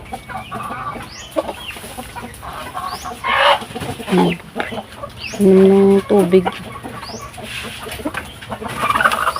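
Pet chickens clucking while being fed, several short close clucks and squawks scattered over scratching and rustling, with a person talking briefly in between.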